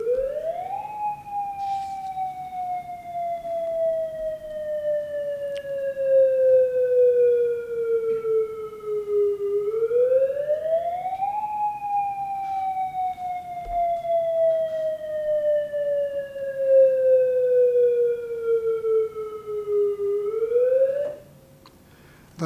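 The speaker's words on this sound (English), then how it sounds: "sound a demonstration of the attack warning siren" A loud civil defense attack warning siren wails, rising and falling in long slow cycles, steady and sustained, with no voices, cutting off near the end.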